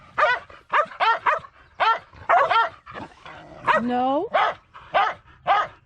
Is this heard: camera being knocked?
no